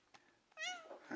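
A cat at an animal shelter gives one clear, drawn-out meow close by after a couple of faint earlier calls, with a second rising cry starting at the end.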